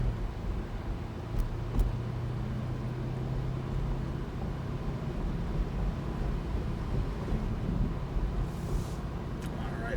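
A race car drives on a track behind a Nissan, giving a steady engine drone with wind buffeting and a low hum, loud and continuous, while a voice speaks intermittently.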